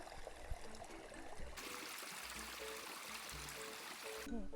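Rushing river water along a wooded trail in Dorogawa, Nara, starts as a soft background wash, then swells into a louder, closer broad roar that holds for several seconds before easing back.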